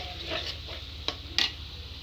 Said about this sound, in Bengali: আলুটা আরেকটু ভাজা ভাজা করতে হবে।